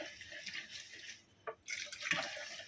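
Coconut milk poured into a pot for a Kokani seven-layered ghavane, a soft liquid splashing in two short bursts with a brief pause between, fairly faint and close, with no talking.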